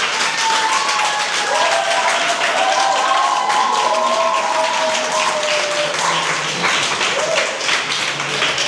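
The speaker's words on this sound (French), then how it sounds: "sur sa pertinence, ovationnez-le." Audience ovation for a debater at a university debate club, a dense steady wash of clapping across the whole span with excited voices and whistles riding over it.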